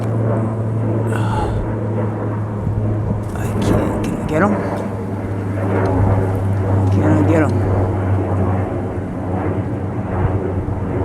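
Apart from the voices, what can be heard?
airplanes flying overhead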